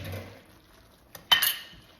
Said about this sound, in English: we are just gonna mix this all together